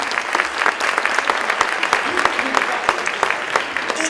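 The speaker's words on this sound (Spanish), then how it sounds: "un fuerte aplauso por su generosidad" At an autism conference in Neuquén, an audience gives a doctor a strong round of applause, dense clapping with a few sharper individual claps standing out, plus some voices underneath.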